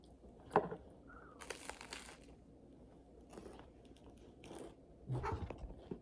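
Quiet crisp crunches of someone biting and chewing food up close, a few separate bites with pauses between them and no talking.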